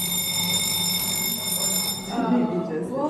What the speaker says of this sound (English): So that feels like an alarm.